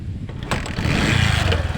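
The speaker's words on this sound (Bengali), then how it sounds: "দেখেন গাড়িটা কত সুন্দর স্টার্ট" A Bajaj CT-100 motorcycle engine catches and settles into a loud, steady low rumble close by.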